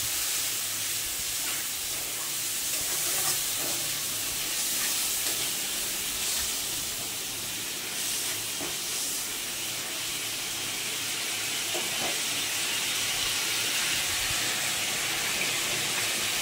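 Water poured into a hot pan of egg curry with ground cumin and chili paste gives a steady, loud steaming hiss that holds evenly throughout, with no voices.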